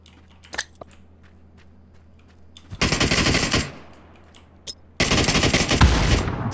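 Rapid automatic gunfire from the PUBG battle royale video game, two loud sustained bursts of machine-gun fire with a few scattered single shots before them, close and dominant.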